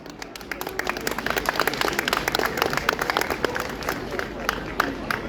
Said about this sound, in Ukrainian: Я прошу ваших найщиріших оплесків.